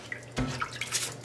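Pickling cucumbers being washed in a basin of cold water, with a brief splash and swishing, gentle sloshing and light drips that continue close by at a moderate level.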